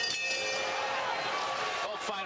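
A boxing round bell clangs during a heavyweight fight, ringing out briefly near the end over loud arena crowd noise and commentary.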